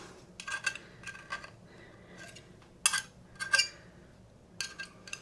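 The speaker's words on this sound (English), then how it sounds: "Sorry for that ugly noise, scraping noise there." Metal pastry cutter is scraped clean of butter, giving short, bright scraping and clinking strokes in irregular bursts against a quiet kitchen background.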